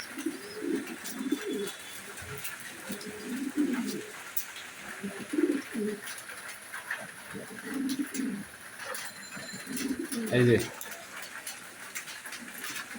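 Budapest racing pigeons coo in repeated soft, throaty bursts nearby, while people talk at a market-like scene.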